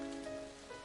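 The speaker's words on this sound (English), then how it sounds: "The sound of raindrops beating on the ground fills the silence." Rain beats steadily on the ground in a rainy scene of the visual novel Clannad, a soft, faint, continuous hiss under light background music.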